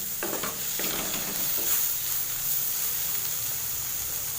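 Spices and tomatoes sauté in a pan on low heat for dhal, a steady close hiss of frying with a few stirring scrapes at the start.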